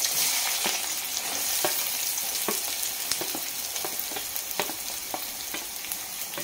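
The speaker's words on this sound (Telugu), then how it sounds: "ఆయిల్ వీటెక్కింది. ఉల్లిపాయలు వేసుకుందాం." Chopped onions for gongura chicken sizzle and fry steadily in hot oil, a dense continuous crackle with sharp spits and pops scattered throughout, close and fairly loud, with no voices.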